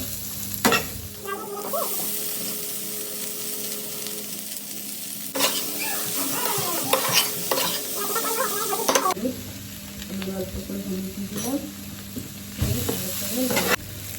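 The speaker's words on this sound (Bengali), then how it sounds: "মশলাটি ভালো করে ভেজে নেব ভেজে নেওয়ার পরে এবারে চিড়েটা দিয়ে দেবো" Flattened rice fried with spices gets stirred in a pan, with a continuous loud sizzle and repeated scraping strokes, some bursts fuller and busier than others; near and steady, with no one speaking.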